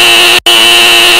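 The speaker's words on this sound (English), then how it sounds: "sounding a loud fire alarm in your ears" A loud fire alarm blares with a steady, piercing electronic tone that cuts out for an instant before resuming, sounding close and alone.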